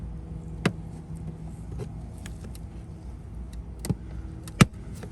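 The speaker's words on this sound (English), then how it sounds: "So you hear the clip release, you work your way up, feel it fully release." A few sharp plastic clicks and snaps from a trim panel's clips releasing on a 2021 Lexus LX570, spaced apart, with a louder crack near the end over a low steady hum.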